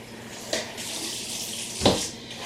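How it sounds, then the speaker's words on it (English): A kitchen tap runs briefly to rinse a potato ricer, with a soft hiss of water and two short splashing bursts close by. "I just want to rinse it out with this."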